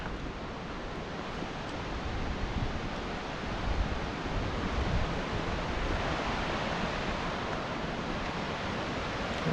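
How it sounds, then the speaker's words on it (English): A full creek rushes along the Granite Lakes Trail near North Bend, Washington, in the Alpine Lakes Wilderness, making a steady, even roar of flowing water with no voices. "And there's the creek."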